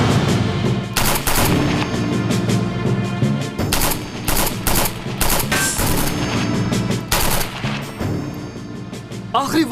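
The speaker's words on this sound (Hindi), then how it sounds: "प्लीज फायरिंग बंद करो ताकि हम लोग बात कर सकें।" Bursts of machine-gun fire and rapid gunshots crackle loudly in a dramatic standoff, dense rattling volleys broken by short gaps, with a strained voice briefly heard between the shots.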